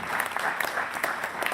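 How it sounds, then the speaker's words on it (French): A seated audience at a national conference claps for a presenter, moderately distant and fairly quiet, with individual hand claps standing out in an uneven rhythm over a continuous patter. "on applaudit Sébastien"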